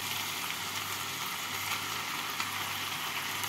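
Scrambled egg goes into a pan of frying potato and pointed gourd curry, giving a soft, steady sizzle with a low hiss and faint bubbling, quiet and continuous with no talking.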